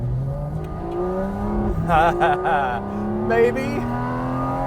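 Porsche Cayman GT4 RS mid-mounted flat-six revving hard toward its high redline, a loud sustained engine roar with rising harmonic sweeps close by, under a brief spoken word.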